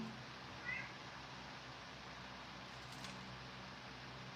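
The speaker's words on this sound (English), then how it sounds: "That's why you always hear meowing in my videos" A faint, brief meow from a Sphynx cat somewhere in a quiet room, with a low steady hum in the background.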